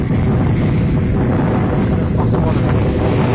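Strong wind and waves at a shore during a fishing trip, a steady loud roar of gusts buffeting the microphone with surf beneath, continuous throughout.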